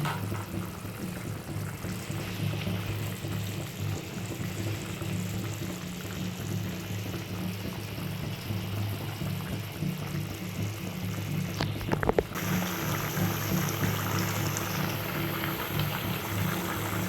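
A hilsa fish and taro (kochu mukhi) curry simmers under a lid over medium heat, giving a quiet, steady bubbling hiss throughout, with a brief clatter near the end.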